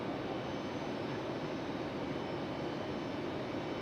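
An Icelandair jet airliner departs Raleigh-Durham airport at night, heard as a steady, broad engine roar that holds at an even, moderate level throughout without voices.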